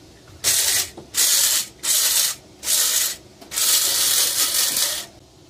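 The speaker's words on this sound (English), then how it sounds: "What I like to do with these electric grinders, I like to shake them as I grind to evenly grind all the bean." An electric coffee grinder grinds beans coarse for French press coffee inside a campervan, sounding as five loud, gritty whirring bursts separated by short pauses, the last burst longer.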